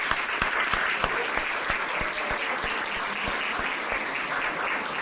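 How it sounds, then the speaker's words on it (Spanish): Steady applause from a crowd, continuous clapping at an even level throughout with no voices. "¿Alguien le quiere dar un aplauso a Jesús?"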